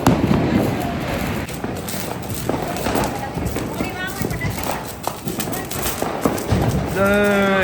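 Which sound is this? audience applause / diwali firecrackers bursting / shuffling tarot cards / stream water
diwali firecrackers bursting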